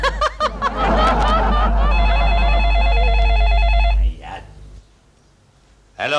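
Telephone ringing in a household scene, an electronic ringtone pulsing steadily for a couple of seconds after noisy chatter and laughter, then cutting off into near silence.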